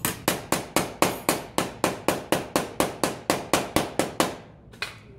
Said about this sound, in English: now let me just hammer this out just a little bit